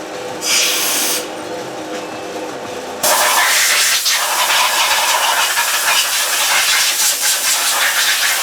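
Spray can spritzing parts of a Stihl TS400 cut-off saw: a short opening burst, then a long, close, loud continuous hiss of spraying that runs to the end.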